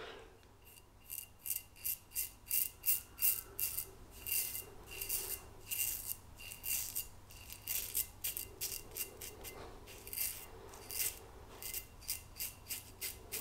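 A vintage British Culmak razor scrapes through stubble in close, rhythmic strokes, a steady run of short rasping pulls with brief pauses between, crisp and near with no talking.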